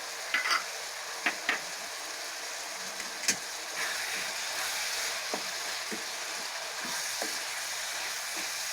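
Whole black cardamom and cloves fry in a pan with a steady soft sizzle, broken by a few sharp scrapes and clicks of stirring scattered through, with no voices.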